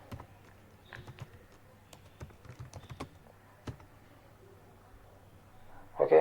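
Clicking keystrokes on a computer keyboard while typing into a browser address bar, a quick irregular patter of light taps, close and fairly quiet, ending in a louder burst.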